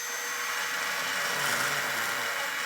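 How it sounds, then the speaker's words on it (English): A burr bit grinds steel flush on the frame of a 2025 Genesis GV80 during a trailer hitch install, a steady, close, high whirring rasp that holds level and swells slightly midway. "what I'm doing is just taking a burr bit and just going to get these smoothed off"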